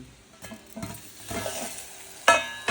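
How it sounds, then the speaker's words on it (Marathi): Spices sauté in oil over a low flame for a mutton curry, a soft sizzle broken by scraping stirs and light clinks of a spoon against the pan. "हे मसाले जे आहेत ते स्लो फ्लेमवरच आपल्याला परतायचे आहेत"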